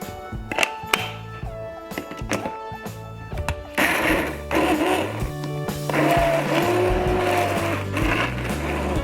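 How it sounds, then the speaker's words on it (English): A handheld stick blender whirs steadily for several seconds, its motor pitch shifting as it churns through thick pea soup, with some clunking against the container. "just so it's easier for the little stick blender"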